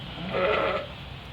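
A single bleat rises briefly from a flock of Hungarian Merino and Karabash crossbred sheep, faint and short amid quiet surroundings.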